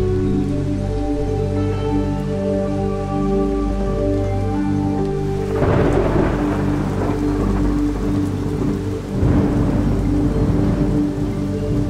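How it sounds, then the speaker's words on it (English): A heavy thunderstorm in Platania brings steady, loud rain pounding on surfaces, with two deep thunder rumbles rolling in partway through and a low steady hum running underneath. "we had the thunderstorm in Platania"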